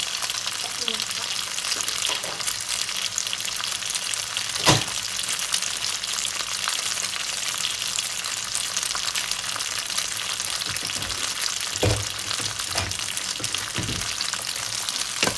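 Noodles stir-fried with crab sticks and egg for pad see ew, a steady close sizzle with a few sharp spatula scrapes and clacks against the pan running throughout.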